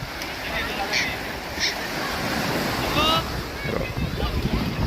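Steady rush of sea surf washing on a beach at Malvan with wind buffeting the microphone, and distant voices faintly mixed in.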